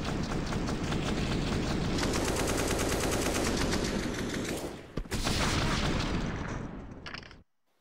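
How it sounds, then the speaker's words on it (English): Sustained, loud AK-47 automatic gunfire in CS:GO, dense overlapping bursts from several weapons firing through smoke during an ESL Pro League match on Inferno, running almost nonstop before cutting off abruptly. "Just a lot of AK-47 fire going through the smokes."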